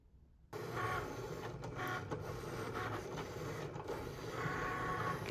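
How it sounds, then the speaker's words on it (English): A home inkjet printer kicks on and runs through an iron-on transfer sheet for a Cricut project, a continuous mechanical whir and rattle with rhythmic carriage swishes, close and steady. "I print it out with my printer"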